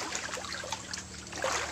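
Water trickling from a spring beneath a large rock at a stream, a soft, steady dribble and gurgle heard close by with faint splashes.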